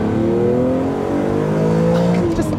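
A BMW Z4M Coupe with its S54 engine and CSL carbon fiber airbox on a track cool-down lap, loud and close, the engine note climbing and falling through revs in smooth rising sweeps.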